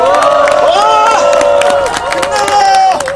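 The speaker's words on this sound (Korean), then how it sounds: "함성과 함께 박수 한번" A crowd at an outdoor rally cheers and applauds together, a dense, loud wash of voices and clapping with high shouted tones rising over it throughout.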